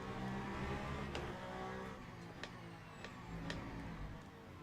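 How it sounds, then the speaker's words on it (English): A Lamborghini race car engine at the 6 Hours of Qatar endurance race, a distant, moderately faint roar with a few sharp transient clicks over steady track ambience. "Oh, what we doing, Lamborghini? Oh, that does sound like a good car."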